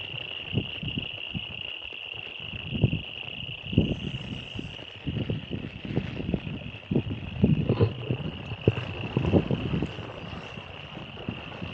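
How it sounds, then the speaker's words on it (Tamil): Night chorus of insects chirping with a steady high whine and scattered frog croaks in a village during heavy cyclone rain, a soft rustling background of rain and wind underneath, no speech. "மழையோட சத்தம், குருவியோட சத்தம், தவளையோட சத்தம்லாம் பயங்கரமாக கேட்குது"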